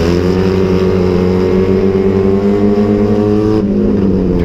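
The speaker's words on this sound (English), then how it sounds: "It is, God bless it, noisy. It's just straight exhaust manifold." A loud engine with a straight exhaust manifold rumbles and drones continuously at close range with a raw, deep exhaust note, holding a steady idle throughout.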